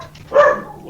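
A dog lets out a single short bark or yip, close and fairly quiet, with nothing else around it.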